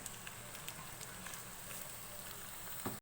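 Chicken mince with onions sizzles in a pan over a flame, a faint continuous crackle with small pops and a soft scrape near the end.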